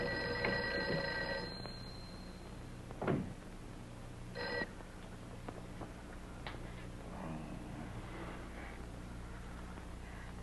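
Old-fashioned telephone bell from a 1959 horror film rings in a short burst, then again briefly, going unanswered amid faint room noise and a few soft knocks.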